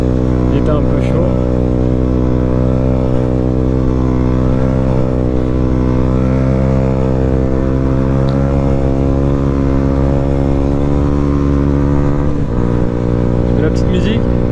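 A 2011 KTM Duke 125 motorcycle with an Akrapovic exhaust run without its dB killer and fitted with a Leovince decat pipe idles close up. Its engine gives a loud, steady drone with a rough, throbbing low end and a brief dip near the end.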